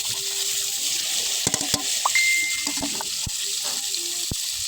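Chopped onion, tomato and green chilli fry in hot oil for noodles, a steady bright sizzle throughout with a few sharp clicks and knocks of stirring over it.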